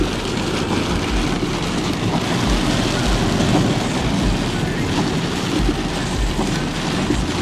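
Heavy monsoon rain pours in a dense, constant roar of drops throughout, with deep rumbling underneath and voices faintly audible behind it.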